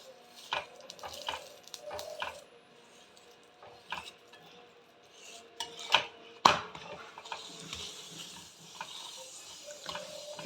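Vegetable paratha cooking in oil on a pan, soft intermittent sizzling with scattered clinks and scrapes of a utensil pressing the bread, fairly quiet and close, no talking.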